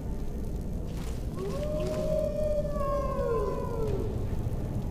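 Wolves howl in the video game Skyrim, long drawn-out wavering cries that rise and fall and overlap from a moderate distance above a steady low ambient rumble.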